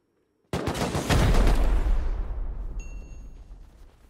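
Gunfire from an AK rifle in the survival game Rust, a sudden loud burst of rapid shots that hits hard and then rings and decays into a long reverberant tail, with a brief tonal beep near the end.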